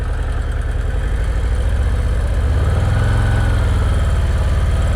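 Motorcycle engine idles and putters steadily during slow-speed riding practice, then swells into a louder, deeper rumble as the clutch engages, close and continuous with no talk.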